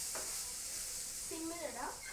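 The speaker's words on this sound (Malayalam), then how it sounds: "നല്ലോണം ഇളക്കാം." Food fries in a pan with a steady bright sizzle while it is stirred, close and continuous, as a voice speaks briefly over it.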